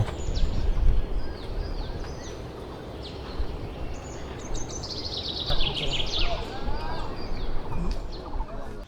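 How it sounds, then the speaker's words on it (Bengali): Birds call and chirp in the morning around a hill village in Bandarban. Bright, scattered calls of varying pitch rise over a rough, busy background, with one louder run of calls midway. "তবে সকালের পাখির কিচিরমিচির শব্দে ঘুম ভেঙে গেল"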